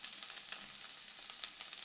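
Kharkol leaf paste with salt and nigella seeds fries in hot oil while being stirred, giving a faint, steady sizzle with soft crackles over a brief moment.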